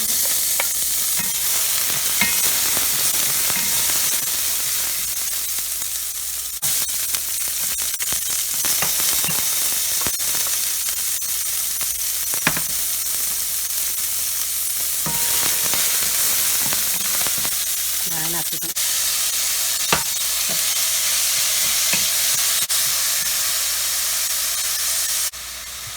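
Tomatoes for a mung bean dish with chayote and malunggay sizzle and spit in a hot pan, a constant loud hiss broken by occasional clicks and scrapes of stirring, with no talking.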